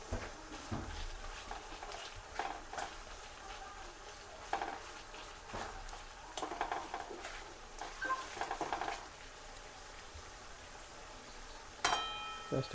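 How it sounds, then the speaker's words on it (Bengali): Onions frying in a pan in a small home kitchen during mutton curry and polao preparation, with a low sizzle under scattered clinks and stirring scrapes of utensils against the pan. "একটু ভাজা হোক"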